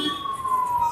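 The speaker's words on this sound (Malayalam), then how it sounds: "ആംബുലൻസ് ആണല്ലോ" An ambulance siren wails in a steady, slightly falling tone, moderately loud and fairly close, for about a second.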